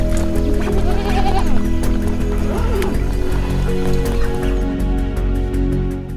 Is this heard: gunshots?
no